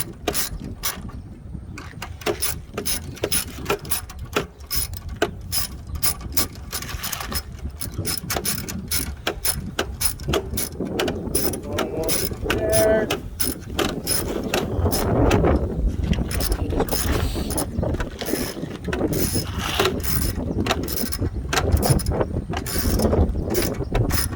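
Ratchet tightening bolts while replacing the starter on a Lexus ES330: continuous rapid clicking of a ratchet pawl over a shop background, close and steady throughout, with brief bursts of heavier mechanical clatter.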